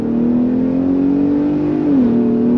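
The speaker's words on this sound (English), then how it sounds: "Let's go on throttle in our updated Raptor." A 2022 Ford F-150 Raptor pickup's engine and exhaust drone steadily and close, pitch climbing gradually under throttle, then dipping briefly as the 10-speed transmission changes gear before rising again.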